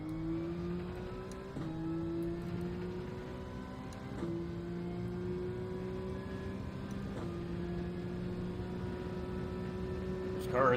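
A high-RPM Porsche race car in the GTRC racing video game holds a steady high-pitched engine drone, with several gear shifts that drop and recover the pitch.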